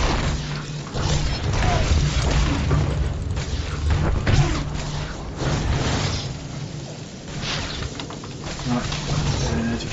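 Flame Sweep attack in Star Wars: The Old Republic, a dense, continuous run of loud booming, crashing bursts of combat effects.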